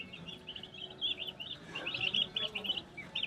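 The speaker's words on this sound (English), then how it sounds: "they got a lot of birds right now. Very nice looking little guineas." Young guinea fowl keets at a farm store cheep in rapid, high, thin chirps, many birds together at moderate distance, with faint background noise.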